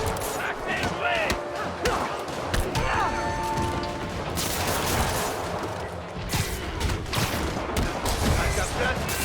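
Gunfire crackles in the Spider-Man PC video game, with rapid volleys, crashes and thuds layered into a dense, continuous din while character voices talk over the action.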